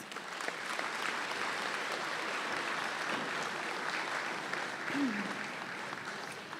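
A large audience at the Coal Bowl 2025 closing ceremonies applauds volunteers with steady, dense clapping that holds at an even level throughout, with a brief voice or whistle near the end.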